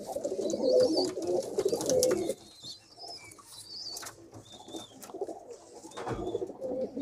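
Pigeons coo from a rooftop loft, soft repeated calls, one female sitting on eggs, with faint rustling and a few higher chirps around them and no talking.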